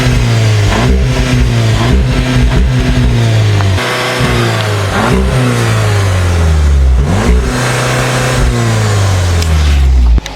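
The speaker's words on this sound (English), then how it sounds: "Rev it!" A new Volkswagen Golf R engine revving hard and up close, repeated rising and falling blips in quick succession, loud and continuous, ending with a small pop at the end.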